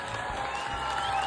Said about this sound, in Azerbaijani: Alqışlayaq, alqışlayaq.